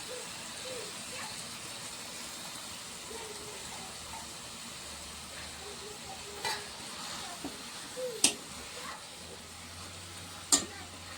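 Moong dal fries in a pan with dill and fenugreek leaves, giving a quiet, steady sizzle under soft stirring scrapes and a few sharp clinks against the pan.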